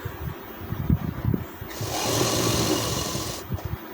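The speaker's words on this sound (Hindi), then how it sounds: "आधा इंच का दबाव लेकर सिलाई चला देंगे" Sewing machine stitching the half-inch folded hem of an elastic-waist trouser leg, a steady whirring run in the middle that stops, with soft handling knocks and rustles of cloth before and after.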